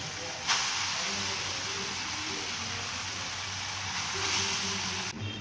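Grated raw mango going into a hot pan for a sugar mango preserve, a steady hiss and sizzle that starts abruptly and holds evenly, with a faint voice underneath.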